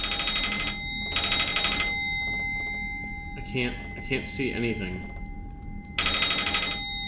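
Telephone ringing inside the indie horror game Inside the Walls, three loud bursts of a shrill electronic bell separated by pauses, with a person speaking in between.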